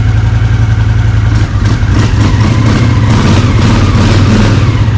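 A Honda CX500 motorcycle engine runs steadily at a warm idle, a loud, close, continuous throb with a low rumbling pulse and faint mechanical clatter, no voices.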